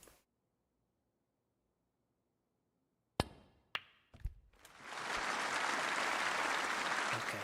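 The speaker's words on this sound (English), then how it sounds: "Once the audience does a big clap, then you know I've got enough points." Audience applause in the snooker video game Snooker 19: a few sharp knocks, then a loud, steady burst of crowd clapping that swells in and sustains to the end, with no talk.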